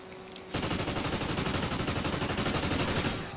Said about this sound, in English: the gunfight